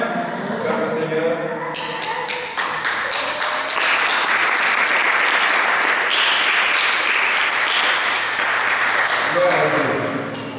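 A church congregation at a worship service breaks into loud, sustained applause close by, with voices mixed into the clapping throughout.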